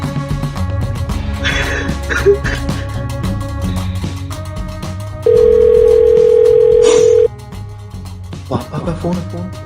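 A telephone rings with a sustained electronic tone for about two seconds, loud over background music and ambient noise.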